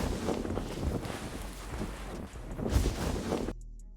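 Synthesized wind-like sound effect with its bass rolled off, a soft rushing whoosh that swells and ebbs for a few seconds before cutting off abruptly.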